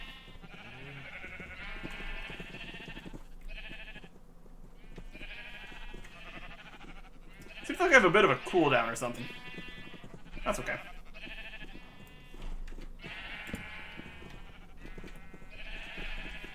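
Many sheep gathered in a Minecraft video game pen bleat in overlapping bursts while someone talks over them, with a louder cluster of calls partway through.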